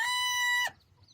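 A single rooster crow comes through as a bright, strained, held call that ends abruptly, with faint farmyard background behind it.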